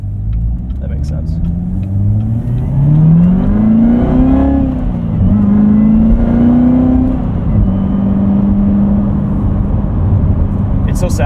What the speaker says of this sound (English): It's so satisfying to drive something without rev hang, with a super responsive, high power motor.